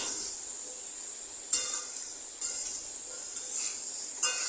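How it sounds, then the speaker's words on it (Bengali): A soft continuous sizzle comes from pumpkin and Malabar spinach stems cooking in a pan while salt and turmeric are stirred in, broken by several brief scraping bursts of the spatula. "এবার আমি ভালো করে নুন হলুদ সব মিশিয়ে নিচ্ছি"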